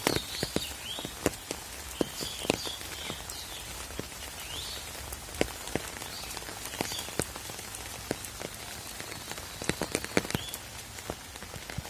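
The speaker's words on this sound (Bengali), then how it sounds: "বৃষ্টি উঠতেছে আমাদের এলাকায়, সেই বৃষ্টি নামছে।" Rain falls across a village, a soft constant patter of drops on surfaces broken by many sharp, close drips and taps at irregular intervals, with no voices.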